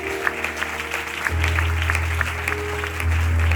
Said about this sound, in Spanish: Esto merecería un aplauso